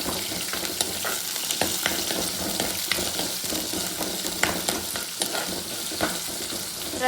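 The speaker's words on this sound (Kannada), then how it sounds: "ಎರಡು ನಿಮಿಷ ಫ್ರೈ ಮಾಡ್ತೀವಿ" Garlic and mustard seeds fry in hot oil as a tempering for an ivy gourd curry, a steady close sizzle with frequent stirring clicks and scrapes throughout, no talking.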